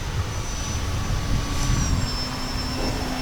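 An E-flite Valiant 2.0 RC airplane flies in strong wind, its small electric motor giving a thin, steady whine over constant loud wind rumble buffeting the microphone, with no talking.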